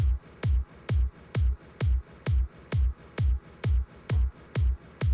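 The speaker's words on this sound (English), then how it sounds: "So what I do is I take a reverb and then I sidechain the reverb so it sounds like this." Hard techno kick drum pattern with sidechained reverb pumping between hits: about twelve loud, punchy kicks in steady four-on-the-floor rhythm, each followed by a swelling reverb tail that ducks away before the next beat.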